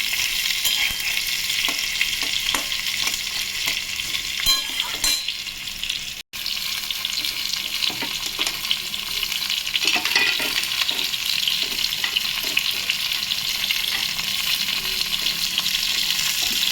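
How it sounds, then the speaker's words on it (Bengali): Pointed gourd sizzles in hot oil and is stirred in the pan, a continuous close frying hiss broken by scraping stir strokes, with one brief pause partway through. "আর একটু পটলটা ভাজবো।"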